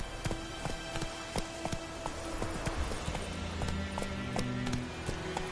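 Video game horse Roach galloping, a quick run of hoof clip-clops repeating at an even pace with a faint low engine-like drone underneath.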